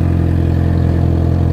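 A car engine running at a steady idle, loud and close, a continuous low rumble with faint clatter and no voices over it.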